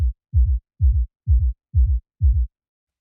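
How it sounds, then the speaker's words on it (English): Double or ghost kick drum sample, six deep low thumps at an even pace, each a quick pair of hits, dry and alone with silence between. "ghost kick, whatever you want to call it"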